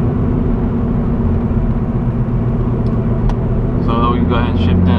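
Manual-transmission car cruising slowly in high gear gives a steady, loud low engine rumble and drone throughout, with a faint voice briefly near the end.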